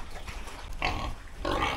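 Pigs on a pig farm grunt in short rough bursts, two louder ones standing out over a constant low farmyard rumble, fairly close.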